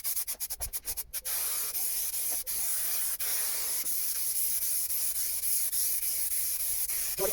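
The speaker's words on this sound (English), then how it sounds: "And you can also spray your back of your carpet as well." A can of spray adhesive opens with a few short bursts, then gives a long, steady close hiss as it coats the back of a carpet piece for lining a van's walls, with no talking.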